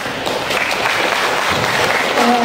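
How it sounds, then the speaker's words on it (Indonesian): Audience at an Indonesian agricultural extension technology competition applauds, a loud, steady burst of many hands clapping that swells slightly toward the end, with a voice faintly beneath. "tepuk tangan buat Sambas."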